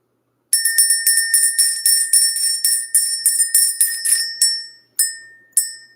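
A bright metal bell rung repeatedly in a quick steady series, each strike ringing clearly, then two final isolated strikes left to decay.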